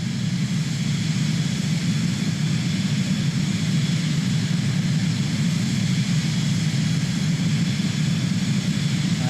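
A Cirrus Vision Jet G2 in Microsoft Flight Simulator 2020 cruises at night, its engine giving a steady, unbroken low drone with a faint high whine, constant in level and alone without talk.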